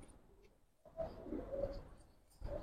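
Giribaz pigeons in a loft give soft, low cooing calls in short bursts, quiet and close, with brief pauses between phrases.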